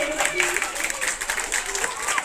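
A crowd applauds at a 26 January Republic Day school ceremony as someone takes the stage. Fairly soft, continuous clapping is mixed with murmuring voices in the background.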